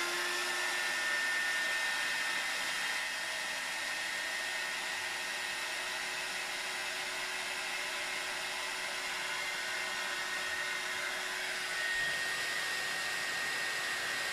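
A heat tool drying and heat embossing a handmade card blows a constant, steady whirring roar for the whole stretch, close and unbroken, with no speech.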